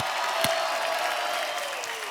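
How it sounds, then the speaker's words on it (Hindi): Studio audience on a Hindi comedy talk show bursts into steady, dense applause that fills the whole moment, with a sharp clap or two standing out near the start and no talking over it. "धर्म पाजी एक बार जोरदार तालियां बनती है।"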